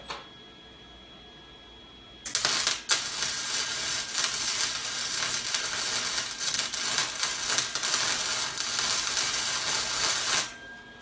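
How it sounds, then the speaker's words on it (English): Crackling, buzzing wire welding starts abruptly after a quiet moment and runs steadily for about eight seconds before cutting off, tack welding supports onto an off-road trailer frame. "going to weld them on top here, just tack them on"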